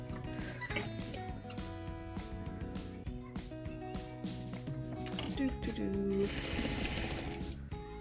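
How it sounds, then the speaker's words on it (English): A sewing machine stitches elastic into the corner of a homemade fabric face mask, a close mechanical whir with rapid needle clatter running throughout, briefly rising toward the end. "And then put your elastic in the corner, stitch through it."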